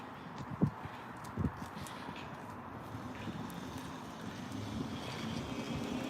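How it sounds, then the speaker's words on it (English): Wind rushes steadily against the microphone outdoors during a walking tour in Shepherdstown, West Virginia, a low continuous rumble with a couple of brief knocks early on, no talking. "I was surprised by how windy it is today."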